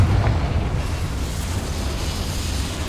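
A Confringo spell explosion in Hogwarts Legacy, a deep rumbling boom that bursts at the start and then rolls on as a sustained low roar, loud and close.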